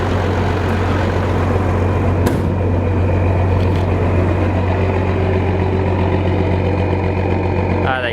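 A Massey Ferguson 760 combine engine idles steadily at close range, with its low, even drone continuing unbroken through the whole stretch after fuel-system work and filter cleaning.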